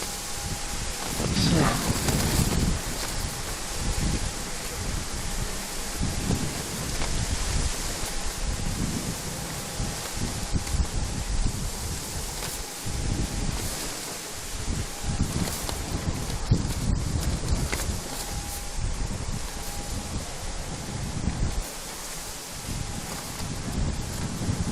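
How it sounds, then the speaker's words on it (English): Gusty wind buffets the microphone at Manchester Airport, a steady broadband roar rising and falling in uneven surges throughout, with talk intermittently heard beneath it. "Yeah, the wind is really gusty."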